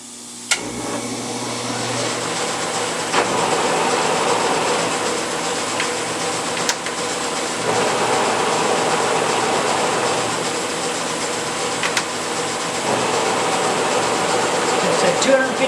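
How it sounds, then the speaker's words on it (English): Roughing end mill cutting soft mild steel at slow speed and feed, a steady grinding rumble with occasional ticks and scrapes, close by and continuous, with no one talking over it. "So we'll see how this end mill does"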